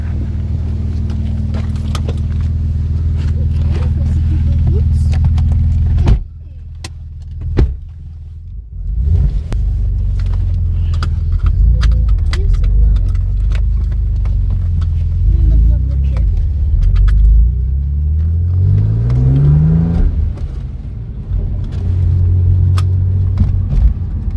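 Renault Clio 4 RS car engine droning loudly from inside the cabin, a steady low rumble that drops away briefly, then rises again with a climbing rev sweep, while people talk over it.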